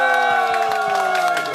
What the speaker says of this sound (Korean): 큰 함성과 박수를 치면서 마치겠습니다.